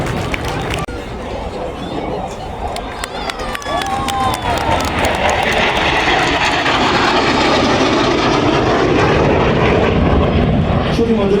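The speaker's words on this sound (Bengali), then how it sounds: "MiG-29 বিমানটি প্রদর্শন করছে স্লো স্পিড হ্যান্ডলিং ম্যানোভার।" A MiG-29 jet flies past at slow speed in a handling manoeuvre during a Bangladesh Air Force Independence Day parade flypast, its loud engine roar swelling and holding steady with a voice talking over it.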